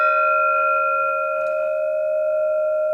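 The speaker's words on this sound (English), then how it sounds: "This is bell number 3." A bronze hurricane bell rings with a steady, sustained pure tone and bright overtones, holding loud and even throughout with a few faint taps near the start.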